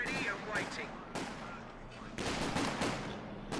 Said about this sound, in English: the ISG rounds starting to come on in again